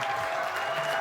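A bar crowd claps in a short, steady burst of applause, moderately loud and continuous for about a second.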